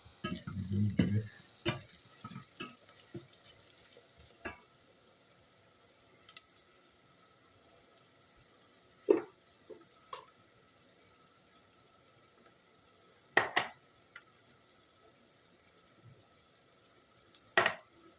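Onions fry quietly in a pan, a soft low sizzle under occasional clinks and scrapes of stirring, with sparse sharp knocks spaced out over a long, mostly calm stretch.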